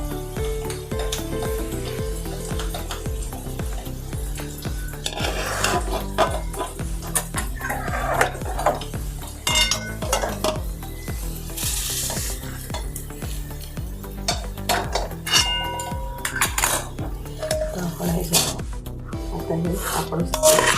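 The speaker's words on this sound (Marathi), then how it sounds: "आता आपण फोडणी बंद करूया आणि कुरमुऱ्यामध्ये सगळं मिक्स करून घेऊया" Puffed rice chivda is stirred and tossed with hot tempering in a pan, giving a continuous dry rustle and scraping with faint sizzle. A dog barks intermittently in the background.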